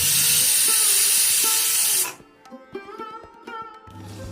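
A pressure cooker vents a loud, steady hiss of steam for about two seconds while egg biryani cooks, then cuts off, leaving quieter clinks and kitchen sounds.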